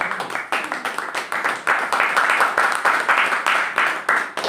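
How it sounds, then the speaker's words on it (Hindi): An audience at a motivational talk claps steadily for several seconds, a dense, continuous patter of many hands at moderate distance, with no talking over it. "जब मैं मिटाता हूं तो तालियां बजनी चाहिए"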